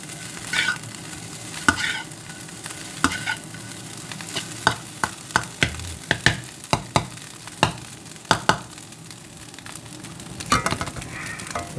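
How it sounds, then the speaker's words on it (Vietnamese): Egg fried rice with garlic is stir-fried in a pan, a steady sizzle under repeated sharp scrapes and clacks of the spatula against the pan, close and busy, with no talking. "Cơm chiên trứng tỏi, bình thường ta cơm chiên trứng là đủ rồi này"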